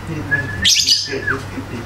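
A bird calls once with a thin, clear whistled note followed by a brief burst of bright chirps, fairly close and loud against a low background hum, with no talking.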